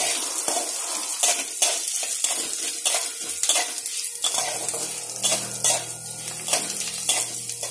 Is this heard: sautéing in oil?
yes